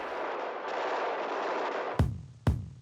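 Gunfire from the film Bonnie and Clyde: a sustained roar of shooting, then two sharp, loud gunshots about half a second apart, each ringing out with a booming tail.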